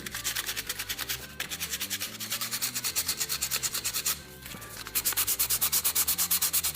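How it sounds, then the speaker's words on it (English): Steady back-and-forth rubbing of sandpaper on a surface, rhythmic and close, with a brief pause before the strokes resume more strongly. "Let's just get a little bit of sandpaper. It'll be a little bit of sanding."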